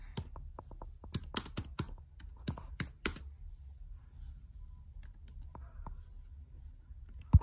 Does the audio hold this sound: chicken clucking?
no